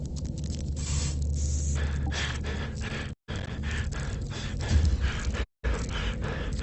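Chemi spray canister in the video game FNAF Help Wanted, a sustained hissing spray burst early on, followed by breathy noisy game sounds broken by two short silent gaps.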